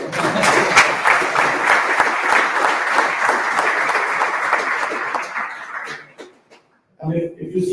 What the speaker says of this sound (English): Any applause?